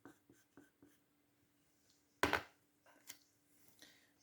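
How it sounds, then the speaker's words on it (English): Soft scratchy pencil strokes on paper while outlining a Senegal flag drawing, a few light taps followed by one louder, longer scrape, close and quiet. "we're just drawing the outlines very first."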